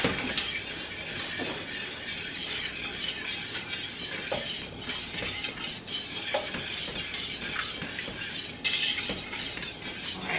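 Whisking a thickening pie filling in a pan on the heat, a steady close scraping swish of the whisk with light metallic clinks against the pan, continuing without talk.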